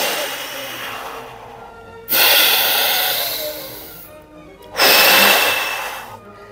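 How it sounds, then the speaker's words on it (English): Deep breaths during a hip stretch in a follow-along mobility workout: two long, loud, close exhales, each starting abruptly and slowly fading, separated by quiet pauses. "Deep breaths."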